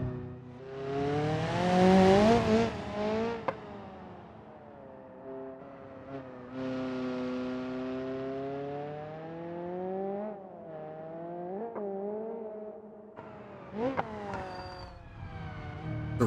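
A race car fitted with a race gearbox in BeamNG.drive on a raceway, its rising gear whine sweeping upward through several shifts, loud and close, with engine drone and brief tire noise between gear changes.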